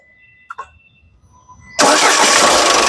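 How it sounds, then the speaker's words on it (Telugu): A 2015 Ford EcoSport Titanium's engine cranks and catches at once, then runs with a loud, steady roar; a couple of brief clicks come just before. "ఒక్కసారి స్టార్ట్ చేయి"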